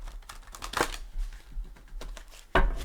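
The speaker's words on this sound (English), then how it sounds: "I will give it a couple shuffles" A deck of tarot cards being shuffled by hand, quiet papery riffles and taps in uneven bursts, with a sharper louder flutter near the end.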